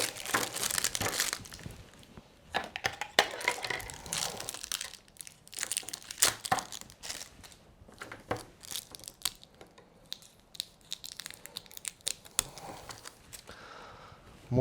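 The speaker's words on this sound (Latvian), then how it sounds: "Ņemot nost foliju." Protective foil is peeled off a cable's conductors, giving close, quiet crinkling and tearing rustles in irregular bursts with brief pauses between them.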